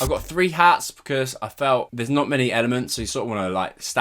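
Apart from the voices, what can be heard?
No everyday noise stands out behind the speech.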